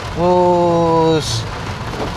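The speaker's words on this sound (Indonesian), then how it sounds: "ini hujan deras" Heavy rain hisses steadily while driving a BMW Z4 between Klaten and Solo. A loud, steady, horn-like tone sounds over it for about a second, followed by a brief bright splash of noise.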